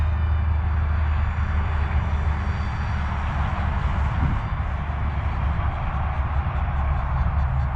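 A large HobbyEagle A3 Pro V2 RC plane with a gyro system flies overhead, its engine and propeller giving a steady, loud droning whine throughout with no talk.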